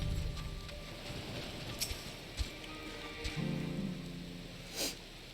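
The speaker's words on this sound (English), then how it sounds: "Nadana, it's raining!" Steady rain patters across the scene of Final Fantasy XIV: Endwalker, a soft continuous wash with a few brief louder ticks and drops, moderate and even throughout, with no one speaking.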